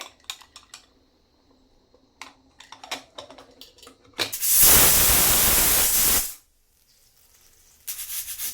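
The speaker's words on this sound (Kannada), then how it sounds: "ಸೊ 2 ವಿಷಲ್ಲಿಗೆ ನಾನು ಕುಕ್ಕರನ್ನು ಕೂಗಿಸ್ತೀನಿ" A pressure cooker cooking cabbage pulao lets out one loud, sustained hissing whistle lasting about two seconds, framed by light kitchen clatter and taps before and a burst of hiss again near the end.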